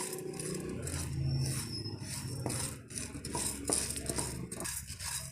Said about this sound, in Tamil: நாம் நல்லா வறுத்துக்கலாங்க.